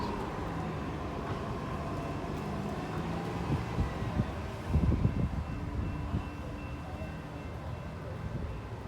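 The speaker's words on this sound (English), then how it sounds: "So here it is, Union Pacific Manifest." A Union Pacific manifest freight train rolls past in Oakland, a steady low rumble and hum of railcars throughout with a brief louder clatter midway.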